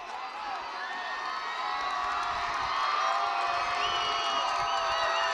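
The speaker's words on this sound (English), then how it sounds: "this crowd is loud and proud of their Lancers right now" A football crowd at a cold night game between Lawrence and Dracut cheers loudly for the Lancers, a dense continuous roar of shouts and whoops with no break.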